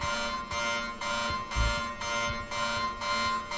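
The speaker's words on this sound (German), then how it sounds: "Alarmanlage!" An alarm system in the horror game Anthology of Fear blares loudly and continuously, pulsing in a steady rhythm of roughly half-second bursts with no talking over it.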